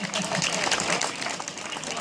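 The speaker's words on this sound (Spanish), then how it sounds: "un fuerte aplauso para ellos" Audience applause during a Miss and Mister pageant presentation in La Higuera, a dense, steady burst of clapping filling the short clip at even loudness.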